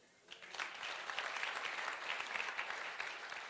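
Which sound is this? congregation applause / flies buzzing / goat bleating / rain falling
congregation applause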